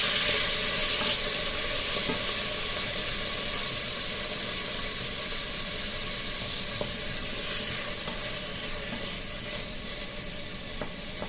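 Steady, loud sizzle of oil frying in a pressure cooker while mutton masala is cooked, a continuous hiss with faint stirring clinks throughout and no talking.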